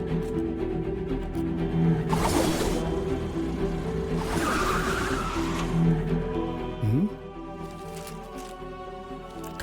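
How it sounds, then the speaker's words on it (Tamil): A car pulls up with a skid of its tires in a Tamil TV drama scene: two bursts of rushing, scraping tire noise over a steady background, with no one speaking. "கார் சத்தம் கேக்குது."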